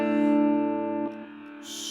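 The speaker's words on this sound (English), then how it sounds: "when you turn on the distortion, it automatically, that gain circuit is making it real quiet overall" Distorted electric guitar chord rings out through a small Caline Lorcan amp, sustained and decaying, then the tone drops noticeably quieter as the distortion switches in, followed by a hiss of noise.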